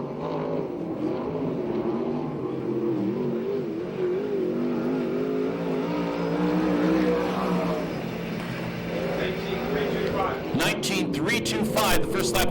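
A USAC/CRA sprint car on a qualifying lap at Perris, its engine droning and rising in pitch as it circles the track, steady and moderately distant, with a louder burst of sound near the end.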